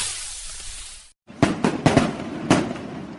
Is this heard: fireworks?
yes